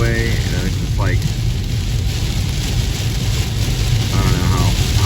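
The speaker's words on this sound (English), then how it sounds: "rain on the highway" Heavy rain on state highway 121 toward DFW, driving through hurricane weather in Texas, with a steady loud wash of spray and road noise and a voice briefly talking over it.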